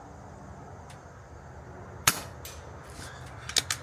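A RAW TM1000 airgun fires outdoors in light wind: one sharp, crisp shot at mid-clip, then two quick snaps close together near the end, over a low breezy background.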